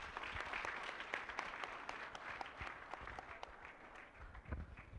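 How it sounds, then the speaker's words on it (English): Audience applause at a scientific conference and innovation expo, a moderate crowd clapping steadily with some distinct nearby claps standing out above the general patter. "Let's give him a better clap."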